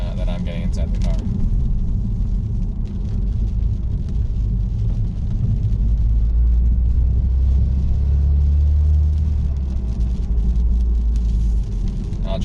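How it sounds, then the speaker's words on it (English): Inside a BMW 328i fitted with a 335i exhaust, a deep, boomy engine drone rumbles steadily throughout while a voice talks over it. "I don't know if you can pick up that boominess that I'm getting inside the car."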